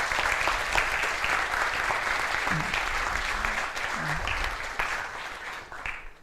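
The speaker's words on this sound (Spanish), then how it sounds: "quiero aprovechar para dar un fuerte aplauso a Diego" Sustained audience applause fills a conference hall after a talk, a dense, even clapping that holds steady for several seconds before tapering off slightly at the end.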